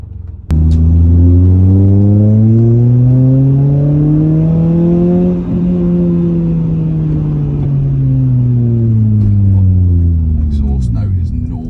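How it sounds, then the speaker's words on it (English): Bright red Toyota Celica exhaust revving loudly up and back down in one long, sustained sweep close by, with the engine note rising, holding and then falling away. "Exhaust note is naughty."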